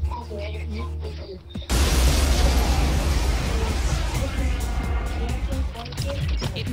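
A fire attack spell in the role-playing game Persona 3 FES bursts in suddenly after a quieter opening, becoming a loud, sustained roaring whoosh with crackling texture that fades slowly toward the end.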